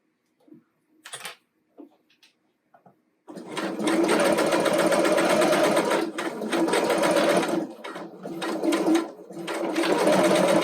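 A sewing machine back stitches along a t-shirt hem, opening with a few short taps and then running in a loud, fast, steady whir with brief pauses, close by and without any talk.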